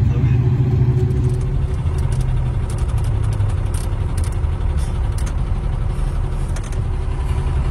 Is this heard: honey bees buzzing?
no